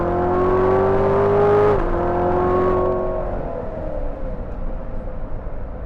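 A 2018 Chevrolet Corvette Z06 3LZ Carbon 65 Edition accelerating hard on a straight farm road, its engine note climbing loudly, dipping briefly at a gear change, then fading to a quieter steady drone.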